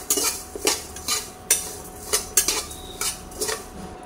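A metal spoon repeatedly scrapes and knocks against a pan while onion, grated coconut and garlic are dry-roasted, about eight crisp, close strokes in a steady rhythm with no talking.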